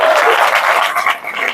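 Audience clapping at a business motivational talk, a dense sustained applause that stays loud and even throughout, with no voices over it.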